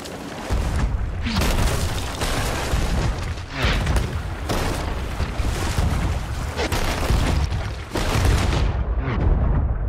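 Naval battle in a pirate ship video game, with heavy ship cannon fire booming over and over in a dense, continuous barrage, loud and close, blending with crashing impacts.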